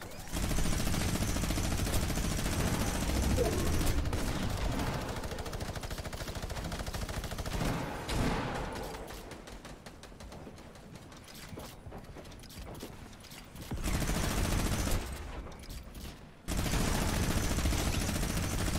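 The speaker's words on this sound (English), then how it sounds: "I just look how long the minigun can shoot, like, uninterrupted." A Fortnite minigun fires in long unbroken streams, a dense mechanical rattle that runs loud and close, drops to lighter scattered shots midway, then roars back in sustained bursts.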